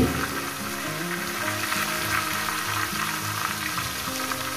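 Fish heads fry in a pan, an even, close crackling sizzle that holds steady throughout, with soft melodic music running underneath and no voices.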